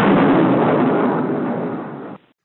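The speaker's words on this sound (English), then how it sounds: "the Bulwark was ripped apart by an enormous explosion" A huge explosion tears apart the moored battleship HMS Bulwark in an estuary, a loud, dense roaring blast that holds for about two seconds and then cuts off abruptly.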